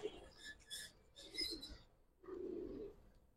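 Silver dolna pigeons cooing softly in short, breathy murmurs, three separate bursts with pauses between, quiet and close.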